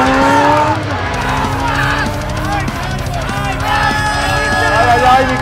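A Yamaha MT10 and a Kawasaki Z900 motorcycle rev their engines. A loud, close engine roar holds steady, its pitch rising and falling with the throttle.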